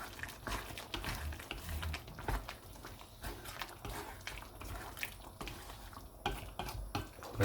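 A spoon stirs garam masala through white chicken curry in a pot, with soft, quiet scraping and faint simmering bubbles throughout.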